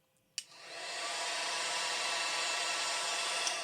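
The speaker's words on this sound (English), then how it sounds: "if you warm it up from the hairdryer" A hairdryer blows steady warm air over airbrushed paint on a Battletech Behemoth miniature, starting with a click and then a continuous loud whooshing hum that holds alone to the end.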